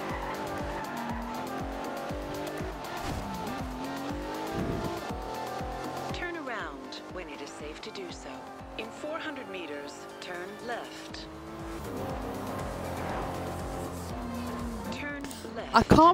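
Racing cars in the Forza 2 video game roar with shifting engine tones and squealing, skidding tires throughout, loud and continuous, while people talk over the game sound.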